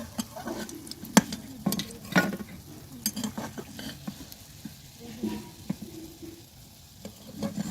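Onion pakora fritters frying in hot oil, stirred with a spoon: a continuous sizzle with frequent sharp spoon clicks and scrapes against the pan, close and moderately loud.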